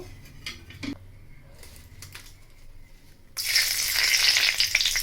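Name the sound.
bay leaf, cardamom, cinnamon and cloves sizzling in oil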